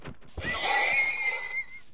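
A horse in the video game Minecraft gives a single loud, close whinny, a rising then wavering neigh about a second and a half long, with no talk over it.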